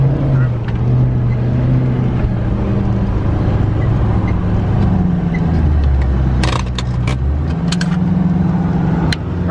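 V8 Land Rover Discovery drives a muddy 4WD track, its engine a steady loud drone that rises and falls in pitch as it works, with a few sharp knocks and clatters from the track.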